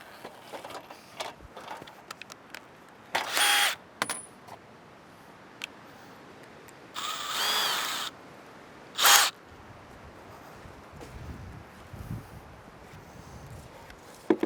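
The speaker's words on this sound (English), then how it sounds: "Stick a couple of diagonal wood screws in here." A power drill drives diagonal wood screws into the wooden frame of a chicken coop, in three short, loud whirring bursts separated by quieter handling clicks and knocks.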